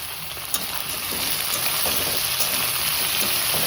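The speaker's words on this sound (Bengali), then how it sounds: "এটা কষাবো ভালো করে।" Chopped tomato, ginger and green chili sauté in a hot pan with a loud, dense, continuous sizzle and hiss, close up and unbroken by talk.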